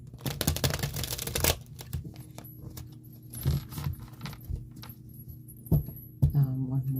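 A tarot card deck is shuffled by hand. A dense riffle of card flutters comes first, then softer irregular slides and taps at close range, with some background noise.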